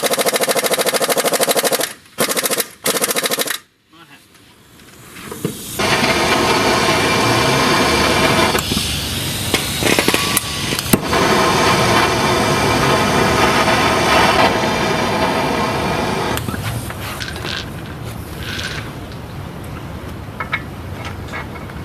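On a Duramax truck, an impact wrench hammers at a front hub bolt in short bursts and then long sustained rattling runs, loud and close, with brief pauses between attempts.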